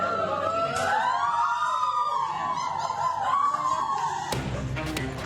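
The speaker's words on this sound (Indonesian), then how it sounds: "mengerahkan 3 unit mobil pemadam ke lokasi kejadian" A fire engine siren wails in a long rising and falling tone from one of three units dispatched to a fire in Kerinci, Jambi, loud and steady before cutting to a sharp noisy burst.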